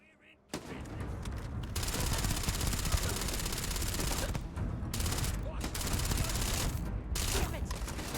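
Sustained rapid gunfire in the video game Starfield, loud dense bursts of shots blazing almost continuously with brief gaps, a firefight with no voices over it.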